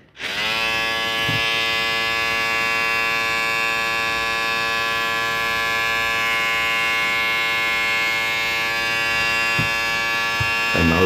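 A budget electric shaver with three adjustable speeds runs continuously at a high setting, giving a loud, steady buzzing whine with a constant tone that stays unbroken from start to finish with no other sounds.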